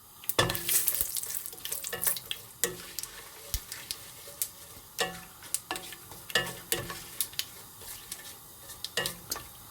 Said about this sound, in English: curry leaves in there. And give that a little stir as well.